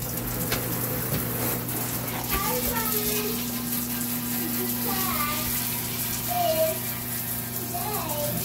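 Hot water sprays steadily onto a grimy part of a WGM K 7400 monitor being cleaned, a continuous close hiss over a low electrical hum with faint chirpy background noises.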